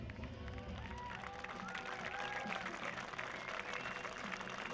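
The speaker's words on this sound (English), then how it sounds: "Ladies and gentlemen, please give him a round of applause one more time." Crowd at a Lake Ozark Speedway dirt track race applauds and cheers the winner, driver Jason Russell, a steady wash of distant clapping mixed with voices and arena noise throughout.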